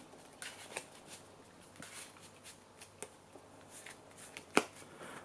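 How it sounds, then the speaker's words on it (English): Soft, quiet shuffling of Yu-Gi-Oh cards with light flicks and riffles, plus one sharper snap of cards near the end, no talking. "Shuffle the other 2 back into deck and draw 1"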